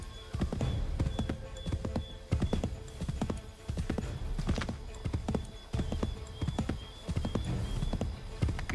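Horse hooves clip-clopping in a video game, a brisk, steady rhythm of close hoofbeats with occasional snorts, while voices talk over the trotting.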